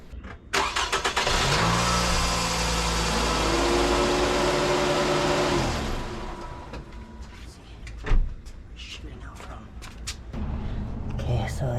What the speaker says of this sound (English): Now we turn on the car for a couple seconds.